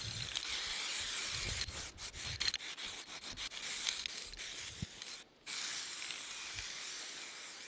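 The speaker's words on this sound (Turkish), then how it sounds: "Beyaz sprey boyayla" White spray paint hissing steadily from an aerosol can onto a metal shooting target, a close continuous spray broken by short pauses and one brief stop near the end.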